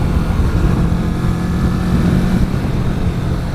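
A 2019 Kawasaki Vulcan S ABS motorcycle engine runs as a smooth, steady drone with broad road and wind rush, heard from the rider's position at an even loudness and without speech.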